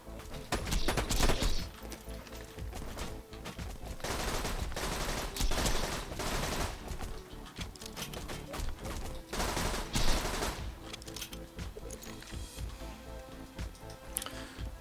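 Borderlands 2 video game turret gunfire crackles in rapid bursts of rattling shots, fairly faint and dense, with several louder flurries spread across the stretch and no voices.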